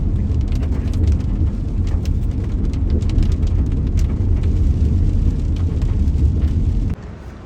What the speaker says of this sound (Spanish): Está lloviendo. y no es poquito.